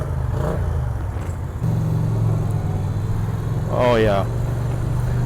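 Indian Challenger Limited motorcycle engine idling low and near stalling under clutch control, a steady low rumble with a brief dip, while a rider talks over it.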